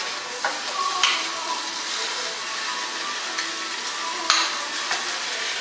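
Sausages fry without oil in a skillet for zuppa toscana, a close steady sizzle with occasional sharp clicks and scrapes of the pan, no talking.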